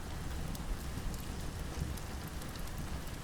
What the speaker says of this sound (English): the white noise of the rain outside eventually lulled us into a heavy slumber